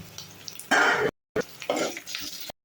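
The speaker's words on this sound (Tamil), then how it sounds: "இது கொஞ்சம் வதங்கட்டும் வெங்காயம் வதங்கிருச்சு" Onions sauté in a pan for a prawn and brinjal curry, with short bursts of sizzling and spoon scraping in two close, loud spells separated by brief silences.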